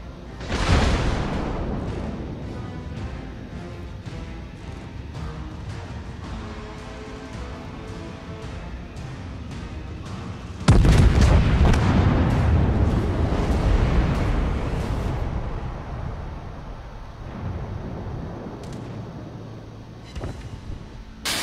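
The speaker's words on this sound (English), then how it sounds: "Your final volley of shells went all around the target." Naval gun volley from warship cannons in the World of Warships game: a heavy booming launch at the start, a second loud rumbling blast midway, then long rolling decay with distant impacts.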